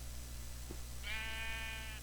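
Sheep bleat in Minecraft VR, one drawn-out wavering call rising over a steady low background hum, with a brief soft thump just before it.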